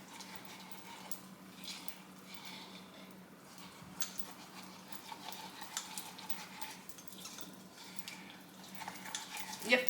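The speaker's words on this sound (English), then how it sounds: "mix it all up until it gets like a paste kind of thing" Cinnamon roll filling being mixed into a paste in a bowl, a faint, close scraping and stirring with soft irregular ticks and a slightly louder scrape at the end.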